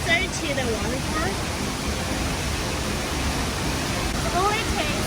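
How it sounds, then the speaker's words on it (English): Steady roaring rush of La Fortuna waterfall in Costa Rica, a 70-meter drop into a pool ringed by lush vegetation, heard as a continuous broadband wash with faint voices and birdlike chirps at the edges. "La Fortuna waterfall is a stunning waterfall that drops 70 meters into a pool surrounded by lush vegetation."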